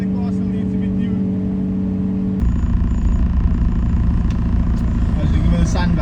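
From inside a K-series-swapped Honda Civic, the engine drones steadily, then leaps into a much louder, rough broadband roar as the car pulls hard, the rumble staying heavy and continuous to the end.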